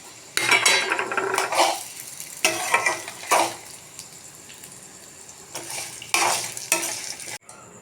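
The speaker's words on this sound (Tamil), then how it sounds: "இதில் எல்லாத்தையுமே ஒன்றா போட்டு மறுபடியும் ஒரு வதக்கணும்" Garlic, curry leaves and chutney ingredients sautéing in sesame oil in a pan, bursts of loud scraping stirs over a soft sizzle, separated by quieter pauses.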